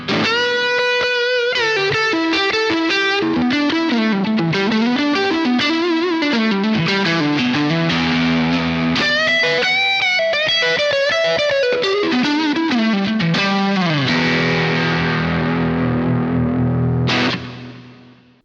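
Electric guitar through a Boss GT-1000 tweed-style amp patch with volume up, crunchy and overdriven, plays a busy run of chords and single notes, loud and continuous, ending on a sustained chord that cuts off.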